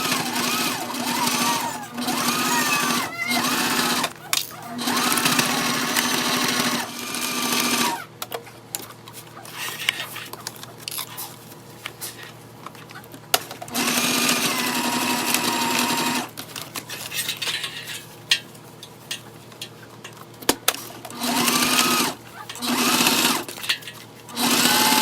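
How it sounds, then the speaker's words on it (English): A sewing machine stitches a fabric waist bag, loud rapid whirring bursts of needle chatter that start and stop repeatedly, with quieter pauses between runs. "And then we're gonna sew all the way down right here again."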